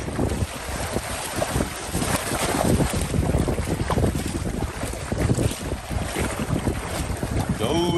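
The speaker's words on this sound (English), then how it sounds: "Paddling into the Tumbo Cabbage Channel." A boat is paddled along a channel outdoors, with paddle splashes and water sloshing under steady wind buffeting the microphone, continuous throughout.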